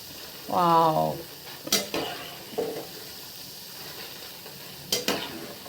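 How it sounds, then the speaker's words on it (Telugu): Boondi batter droplets fry in hot oil with a soft, steady sizzle, broken by a few sharp metallic clinks of a ladle and a short vocal sound near the start. "అలా మనం గంటతో బూందీ వేసుకుంటే మనకి ఇలా గుండ్రంగా ఉను మంచిగా గోల్డెన్ కలర్ వచ్చేంత వరకు దీన్ని ఫ్రై చేసుకోవాలి"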